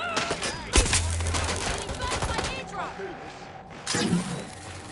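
Video game gunfire, a burst of sharp shots and impacts with whooshes and a slam, mixed with game effects and someone talking over it.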